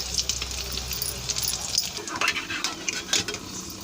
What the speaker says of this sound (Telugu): ఇవి బ్రౌన్ కలర్ వచ్చే వరకు వేయించుకోవాలన్నమాట.